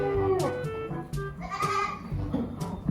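Goats on a farm bleat close by, several overlapping calls in quick succession over a short stretch.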